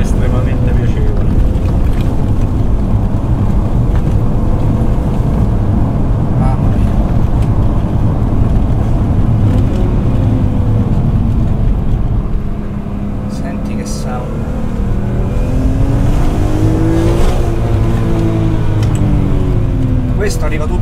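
A BMW M3 E46 runs its engine and exhaust in a steady loud drone that rises and falls, with wind noise and an Italian-speaking voice over it.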